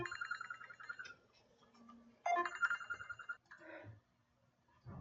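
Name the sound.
mobile phone ringtone during a lecture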